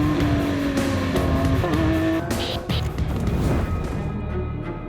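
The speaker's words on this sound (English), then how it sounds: "But they also need to revise the machine's massive V12 engine." The 770-horsepower V12 engine of a Lamborghini Aventador SVJ roars loudly as it passes at speed, with rising and falling revs and a brief tire squeal.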